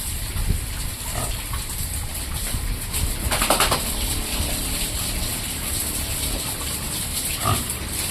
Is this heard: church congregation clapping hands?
no